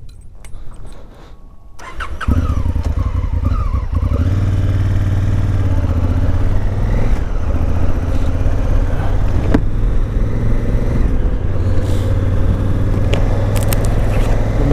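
A Honda Africa Twin adventure motorcycle starts after a quiet moment, then its engine settles into a loud, steady rumble close by, with shifting revs as it rides off around a lake.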